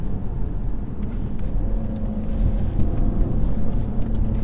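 Steady low drone of a 2017 VW Tiguan's 150 hp engine with a DSG gearbox while driving, heard as an even hum from inside the car with road noise and no talk.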